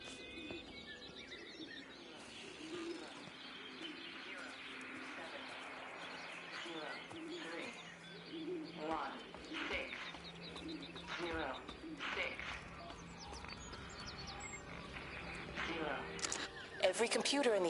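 Game-world pigeons and doves cooing and chirping at moderate distance, steady through the scene, with a person talking over the birds.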